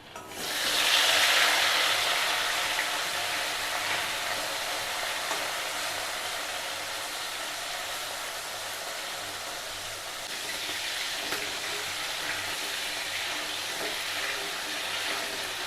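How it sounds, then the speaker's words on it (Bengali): Turmeric-coated crabs drop into hot oil in a wok for crab curry, a loud burst of sputtering sizzle that settles into a steady close frying hiss, swelling again near the end, no talk. "তেল গরম হয়ে গেছে এবার কাঁকড়াগুলো ছেড়ে দেবো"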